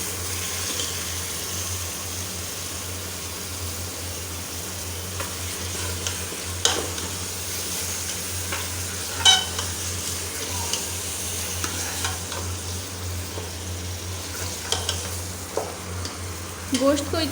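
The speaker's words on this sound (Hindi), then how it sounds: "गोश्त ऐड करने के बाद इसे मैं अच्छे से भून लूँगी।" Goat meat stirred and frying in a pot for haleem, a steady broadband sizzle with intermittent scraping stir clicks and knocks growing busier toward the end, close and continuous with no talk.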